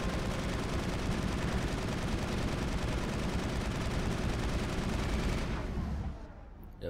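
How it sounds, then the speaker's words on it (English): Dense, continuous sci-fi gunfire rattles in a Mass Effect 1 firefight on PC, loud rapid bursts layered for about six seconds before dropping away abruptly. "So I can get their gunfire helping me out a bit."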